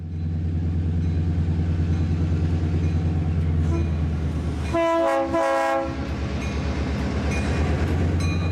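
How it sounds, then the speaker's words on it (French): The Chepe Primera Express passenger train in Mexico, pulled by two locomotives, rumbles heavily with a deep engine drone, then gives a loud horn blast in two pulses around midway before the rumble carries on. "Aujourd'hui, 2 locomotives tractent le convoi composé des wagons jaunes du Primera Express, le Chepe première classe."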